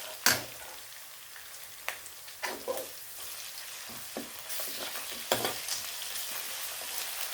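Crushed garlic, ginger and fennel seeds fry in a pan, a soft sizzle broken by several loud scraping stirs of a spoon, the hiss swelling toward the end.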